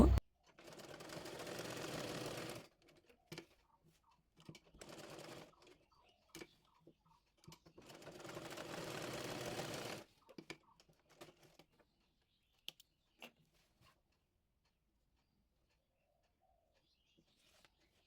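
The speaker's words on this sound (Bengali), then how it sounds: "এই যে সেলাই করে নেব" Sewing machine stitching salwar fabric in two sustained whirring runs separated by quiet gaps with faint clicks, close and moderately loud.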